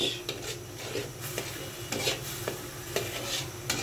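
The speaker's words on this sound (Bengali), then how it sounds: "হলুদ মরিচ দিয়ে মাছটা আমি ভেজে নিচ্ছি" Coral fish frying in oil with turmeric and chili, a steady close sizzle overlaid with rhythmic scraping and rubbing strokes against the pan.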